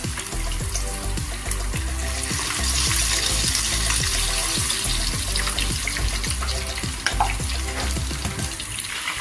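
Chicken legs fry in hot oil, a loud, dense sizzle that crackles continuously throughout, with rhythmic stirring or scraping strokes repeating underneath.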